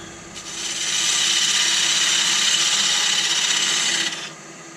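A wood lathe cuts tenons on small spoon blanks meant for eating oats, giving a steady, close whirring and scraping that rises, holds evenly for about three seconds, then eases off over a low motor hum.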